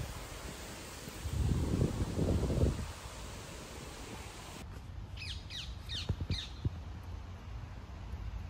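Crows caw outdoors on a cloudy, breezy day among trees, a few harsh calls mid-distance over soft wind noise, followed by fainter, higher bird chirps.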